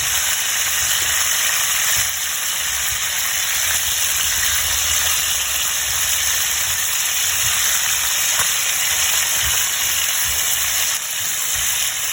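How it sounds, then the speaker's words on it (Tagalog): Continuous broad hiss of chicken frying in oil, steady and fairly loud throughout, with no voices. "So habang biniprito po ang ating manok"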